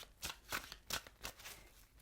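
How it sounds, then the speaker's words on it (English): Playing cards shuffled during a tarot reading, a few quick riffling bursts in a row, fairly close and clear, with no talking over them. "2 more shuffles."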